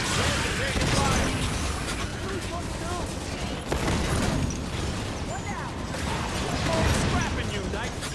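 Halo 5: Guardians gunfire rattles in dense, continuous bursts through the whole stretch, with chattering automatic fire and occasional heavier impacts under steady game noise and voices.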